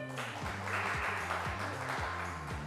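A studio audience at a French game show applauds and cheers for team six on an applause meter, a steady wash of clapping under a droning musical bed.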